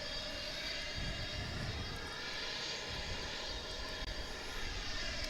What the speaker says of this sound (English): the engine sound could be an APU running